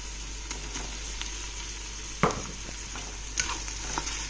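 Crushed ginger and green chili fry in a pan for a spinach chicken curry, giving a faint, steady sizzle with a few soft stirring scrapes and one sharper clatter partway through.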